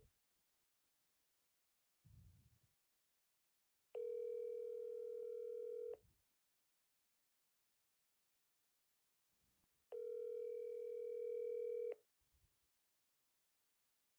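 A phone line rings back twice while a call is placed, each steady electronic ring lasting about two seconds with a long quiet gap between, faint small clicks around them.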